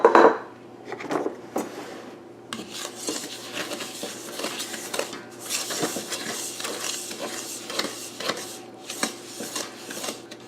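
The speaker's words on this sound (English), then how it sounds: "we're going to add the eggs to it. And we're just going to stir that up." A spoon scrapes and taps steadily inside a bowl while eggs are stirred into thick rhubarb pie filling, with a quick run of close, clattering strokes and no talking.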